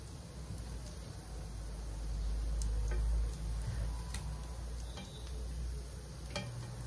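Tuna burgers fry in an oily pan with a soft, steady sizzle, punctuated by light clicks and taps as a spatula works under the patties, close but quiet, with a low rumble swelling briefly midway.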